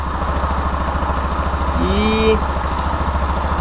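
A Yamaha Fazer 250 motorcycle engine idles steadily and close after valve and chain-tensioner adjustment, a low even throb running throughout while someone speaks over it.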